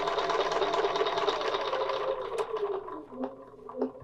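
A sewing machine runs a steady, fast stitching drone as it sews fabric along a curved template for a nested petal quilting pattern, slowing and breaking into short bursts near the end.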